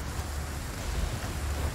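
Rain falls in the video game Resident Evil 4 Remake as a soft, steady broadband hiss with a low rumble beneath, fairly quiet and without any talk.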